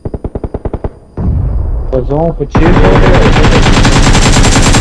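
Rapid automatic gunfire from a mobile shooting game: a quick burst of evenly spaced shots, a short lull with a voice speaking, then a sustained loud barrage of continuous fire close by.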